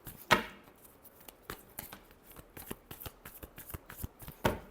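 Tarot cards are shuffled close by in a string of crisp riffling slaps and taps, quiet overall with a few sharper bursts.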